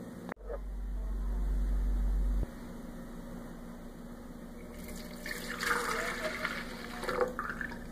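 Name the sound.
pouring milk and liquids into a blender for corn cake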